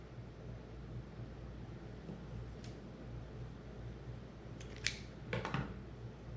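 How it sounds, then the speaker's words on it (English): Fishing line has its tag end snipped after tying a uni knot on a surf fishing rig, a few faint, quick cuts late in the stretch over soft wind-like background noise. "cut the tag."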